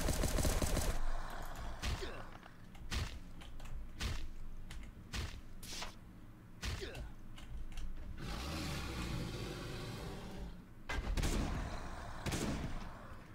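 Shotgun fire in the survival game Last Day on Earth: Survival, a series of sharp, loud blasts spaced unevenly over a few seconds with game sounds between.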